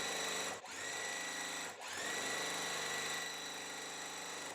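A sewing machine runs steadily, stitching pinned quilt block pieces together, with a continuous close whir broken by two brief pauses.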